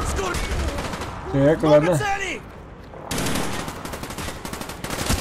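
Rapid automatic gunfire crackles in Call of Duty Black Ops, dense bursts of shots at the start and again in the second half, with someone speaking briefly between them.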